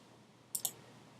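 Two quick, light clicks from a computer keyboard or mouse during a software design tutorial, close and faint against a quiet room with no talking.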